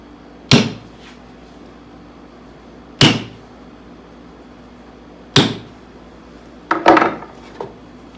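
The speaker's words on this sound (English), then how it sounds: "Just center punch those." Four sharp metallic hammer strikes on a center punch marking metal, with long pauses between them. The last one is followed by a quick cluster of smaller taps and a light clatter.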